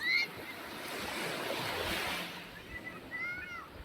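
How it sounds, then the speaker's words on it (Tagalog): Steady wash of surf rolling in at a beach in Palanit, Masbate, Philippines, a broad soft roar with gentle swells and a little wind, no voices. "Ito ang view ng beach dito sa Palanit."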